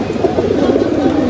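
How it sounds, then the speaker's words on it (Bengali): Pigeons cooing in their cages, a loud, close, continuous layered murmur of soft throaty coos with no talking. "আমি সব করে কবুতর লক রাখছি।"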